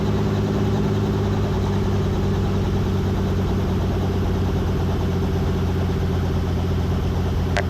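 A helicopter engine idles steadily after the throttle is chopped, giving a loud continuous turbine whine and drone with no change in level throughout.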